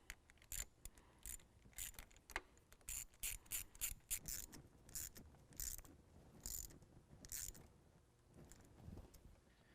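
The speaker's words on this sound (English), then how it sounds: "And we can tighten that down." A ratchet tightens a 10mm nut on a cold air intake installation in a 2017 Ford F-250 Powerstroke engine bay, with a string of quick, faint clicking bursts in an uneven rhythm.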